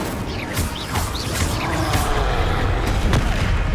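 In the Hogwarts Legacy video game, a Confringo blast spell lets off a deep, rumbling explosion that swells and holds, with several crackling bursts sounding loud over a booming low end.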